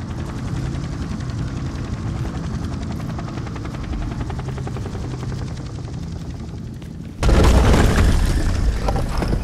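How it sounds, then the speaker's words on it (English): Helicopter in Gotham Knights during a severe ice storm, a steady loud rotor drone running throughout, then swelling abruptly into a harsher, louder roar near the end with booming impacts. "The GCPD is pulling back the helicopter due to the severity of the storm."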